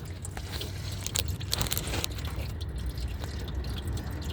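Coolant drains from a Chrysler 200 V6 engine after the reservoir pressure is released, a continuous trickling and dripping of liquid, close and fairly steady, with a few sharper splashes.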